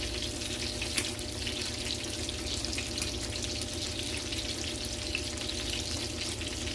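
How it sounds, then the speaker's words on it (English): Angus beef meatballs frying in a pan as they are stirred and turned, a steady close crackling sizzle that carries on evenly with faint clicks and no speech. "give them a little stir and coating over here"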